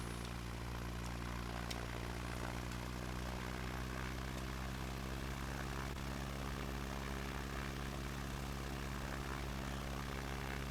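A Piper Cub's engine drones steadily in a flight simulator game during a turn near an airport, a continuous propeller hum with no talk.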